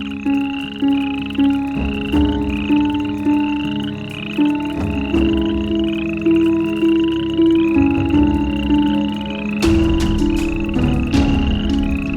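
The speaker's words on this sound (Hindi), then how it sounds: "मेंढक के टर्राने की आवाज है।" Frogs croaking steadily in a dense, repetitive chorus, the calls overlapping in a pulsing rhythm over a constant background hum.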